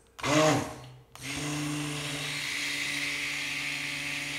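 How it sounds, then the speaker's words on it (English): A stick blender starts with a brief whirring burst, pauses, then runs steadily with a continuous high motor whine and a low hum, close by. "I like to use this stick blender."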